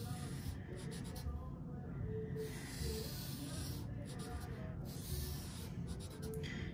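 A pen scratches across paper while a physics diagram of magnetic fields and forces is drawn, faint strokes in short bursts separated by brief pauses, under a steady low room hum.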